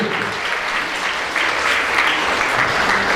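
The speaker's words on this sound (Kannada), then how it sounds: "ಮತ್ತೊಮ್ಮೆ ಜೋರಾದ ಚಪ್ಪಾಳೆಯೊಂದಿಗೆ ಅವರನ್ನು ಅಭಿನಂದಿಸಬೇಕು" Steady, dense applause from an audience honouring the first-place winner of a patriotic song and fancy-dress competition, sustained and fairly loud for the whole stretch with no talk over it.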